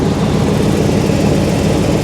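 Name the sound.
V8 truck engine with exhaust leak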